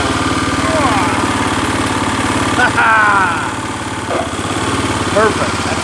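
A Massey 10 tractor engine runs steadily at idle, a close, even mechanical chug throughout, with people talking over it.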